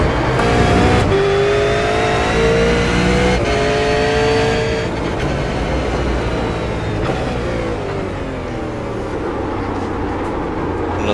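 A V8 race car engine in a video game roars loudly and continuously, revving up and down through gear changes as it accelerates and slows, with no talking.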